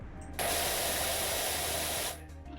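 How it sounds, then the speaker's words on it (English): A pressure washer in the video game PowerWash Simulator sprays in one loud, steady hissing burst of about two seconds, starting and stopping abruptly over a quiet background. "Why is the spray is loud, but the rest of the game sounds are not?"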